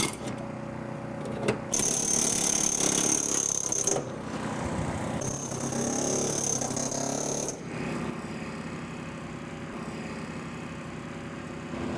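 Hydraulic rescue cutter slicing through the lower roof post of a vehicle cab during roof removal extrication, with steady loud mechanical grinding and crunching, bursts of high metallic screeching, continuous and close with no talk.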